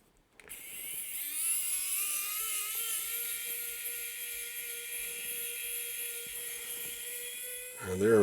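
Powered screwdriver backing out long T10 screws from an active LPDA antenna, a high whining motor that starts abruptly and holds a steady rising pitch for several seconds, close and moderately loud, ending with a brief clatter.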